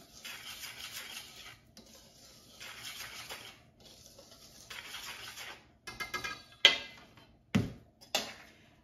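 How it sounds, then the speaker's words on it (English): Dry bread ingredients, including active dry yeast, are whisked in a bowl: repeated bursts of brisk scraping and stirring, close and moderately loud, ending with a few sharper clinks against the bowl. "I'm going to whisk all the dry ingredients together just so I make sure they're all mixed well"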